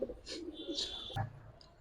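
Giribaz and coloured pigeons cooing in a loft, a few soft close coos and short calls with a brief knock partway through.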